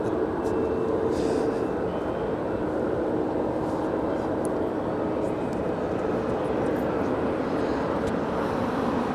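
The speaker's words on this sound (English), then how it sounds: "Departure here on the south side is a United Airlines 737-900ER on our way to Cancun, Mexico, flight 1276" A United Airlines Boeing 737-900ER departs LAX for Cancun with a continuous jet-engine roar, broad and steady, heard from the airport's south side.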